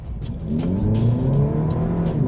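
A Hyundai IONIQ hybrid in Sport mode accelerating flat out from standstill toward 100 km/h, with a steady rising engine drone and climbing tonal whine heard from inside the car, loud and continuous.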